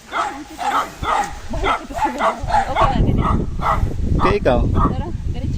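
Several dogs bark and yip close by in a rural Philippine province, the barks in rapid bursts that crowd together into a continuous, loud clamor; a person speaks briefly at the start.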